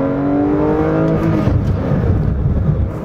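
A Porsche 911 S/T engine revs up loud and close while warming its tyres, its rising whine giving way to a rough, roaring drive with faint tyre and road noise beneath.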